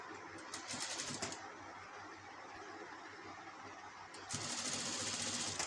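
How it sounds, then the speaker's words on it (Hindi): A sewing machine stitches a long designer kurti with a fast, even mechanical whir. It is quiet and runs steadily, with a brief pause midway before the stitching resumes slightly louder. "और इसकी डबल सिलाई कर लाएंगे।"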